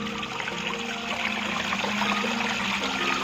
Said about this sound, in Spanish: Y fijaros qué fuente más guapa. Ya solo el escoitar el agua,